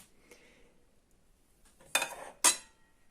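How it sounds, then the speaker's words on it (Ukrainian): Two sharp knife strokes on a cutting board as zucchini is thinly sliced, the second cut arriving about half a second after the first, close and fairly loud after a quiet pause. "Цукіні тоненько потрібно різати."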